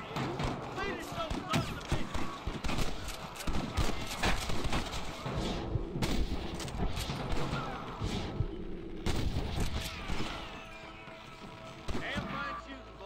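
Gunfire in the Red Dead Redemption video game, with dense, busy bursts of shots and action noise continuing throughout, loud and crowded, with voices mixed in.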